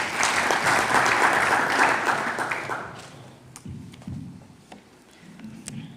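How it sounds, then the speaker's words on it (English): Audience applause at a regulations launch event as a forum chairperson comes on stage, a dense burst of clapping for about three seconds that fades to a few scattered claps and room sounds. "A round of applause as he comes on."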